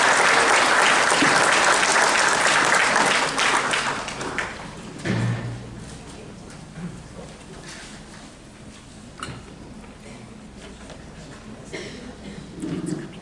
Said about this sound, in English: So give your all stars a hand for that.